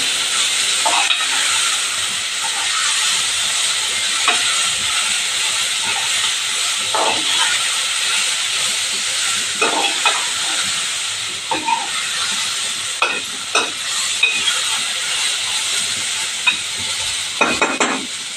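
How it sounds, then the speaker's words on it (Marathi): Sprouted horse gram sautéing with a spice tempering in a pan, giving a steady loud sizzle and hiss with intermittent scraping stirs that grow more frequent toward the end; no one speaks. "मी चांगल्याचे परतून घेते. मी सगळीकडे त्याला फोडणी लावून घेते."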